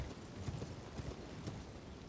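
Horse hooves gallop in the video game Elden Ring, a faint, steady beat of hoofbeats under a quiet wash of game ambience.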